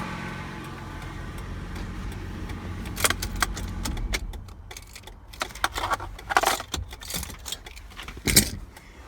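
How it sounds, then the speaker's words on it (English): Keys jangle and rattle around the ignition of a 2004 Ford Mustang convertible with a 3.9 liter V6 as the idling engine is switched off, a low running rumble for the first few seconds giving way to quieter sharp metallic clinks. "Now I'm gonna cut the car off."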